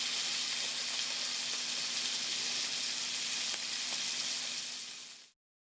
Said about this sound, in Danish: Så jeg steger lige nogle bøffer